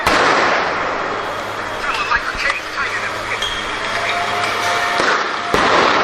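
Flashbangs and tear gas canisters launched at a night protest in July 2020, with loud sharp pops and bangs over a dense, noisy crowd roar. Shouting voices are mixed in throughout, and a final blast comes near the end.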